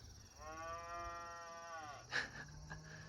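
A cow gives one long, low moo at a distance, with faint outdoor ambience around it.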